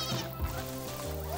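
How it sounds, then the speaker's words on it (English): Sheep bleating in the video game Astro Bot, a wavering, tonal cartoonish bleat heard close and clear over soft game music, with no talking. "Oh, hey, look, sheep."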